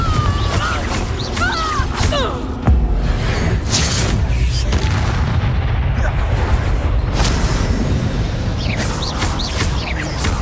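Confringo blasting spell explosions in the Hogwarts Legacy video game, with loud, dense booms and crashing bursts layered over continuous combat noise.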